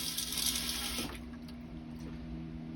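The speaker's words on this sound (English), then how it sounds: "And flush." An RV toilet flushes: a close, steady rush of running water that drops off to a quieter trickle and hum halfway through.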